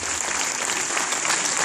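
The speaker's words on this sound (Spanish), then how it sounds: "le damos un fuerte aplauso a cada uno de ellos" An audience at a Star Wars fan convention in Argentina applauds costume contestants, producing a dense, steady burst of clapping that fills the moment loudly, with no voices over it.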